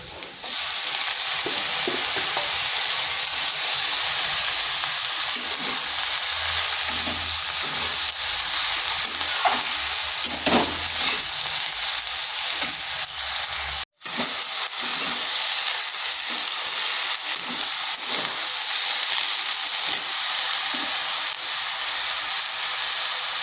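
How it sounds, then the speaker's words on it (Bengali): Drumstick flowers fry and get stirred in a pan, a steady loud sizzle and hiss with scraping stirs throughout and one abrupt brief dropout midway, no talking. "এরপর দিয়ে দিচ্ছি সজনা ফুলগুলো।"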